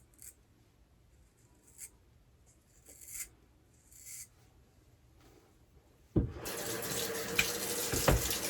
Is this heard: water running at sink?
yes